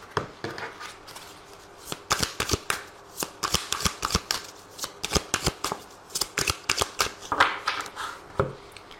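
A deck of tarot cards is shuffled up close, with rapid bursts of crisp riffling and slapping clicks repeating in an uneven rhythm.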